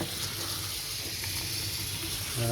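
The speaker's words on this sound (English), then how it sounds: "we're going to rinse out that extra soapy water" Tap water runs and gushes while soap is rinsed out of tie-dyed fabric, a soft, steady hiss of flowing water heard close and fairly quiet.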